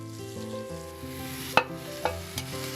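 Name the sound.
root vegetables simmering in a pot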